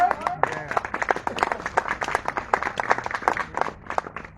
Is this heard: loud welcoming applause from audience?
yes